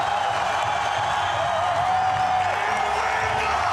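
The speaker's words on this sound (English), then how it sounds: "The crowd going wild." Large crowd roaring and cheering at the FISE Montpellier 2024 BMX freestyle spine ramp final, a dense, steady wash of voices filling the whole stretch without pause.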